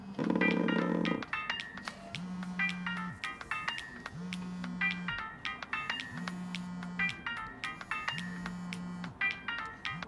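A telephone rings unanswered: a brief louder tone at first, then four evenly spaced ring bursts of a soft electronic ringtone, faint and alone in a quiet room.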